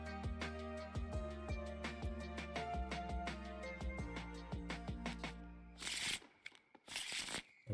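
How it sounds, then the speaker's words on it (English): Cards shuffled by hand during a homemade board game session, heard as a few quick riffling bursts near the end, following a stretch of clicks and steady tones. "I love that you can just shuffle them by grabbing them like that"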